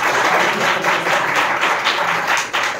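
An audience claps together in a congregation setting, a dense, loud burst of applause that pulses steadily throughout.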